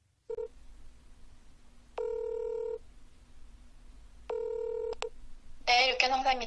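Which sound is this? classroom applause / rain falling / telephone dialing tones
telephone dialing tones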